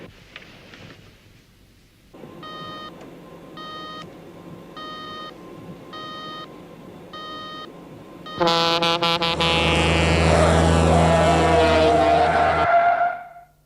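An E alarm beeps on a 1970s science-fiction TV show, with a regular pulsing electronic tone repeating about six times, then giving way to a louder, harsher warbling electronic alarm that holds steadily before cutting off.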